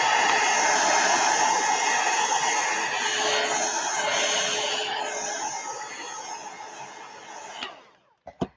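A handheld dryer blows steadily and loudly up close to speed the drying of paint in an art journal, then switches off near the end.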